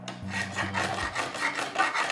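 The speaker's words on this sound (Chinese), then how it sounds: "这是一把锯子，我们来锯一锯" A toy saw rasps back and forth across a toy car being repaired, quick rubbing strokes in a steady rhythm, close and fairly loud, after a short low hum at the start.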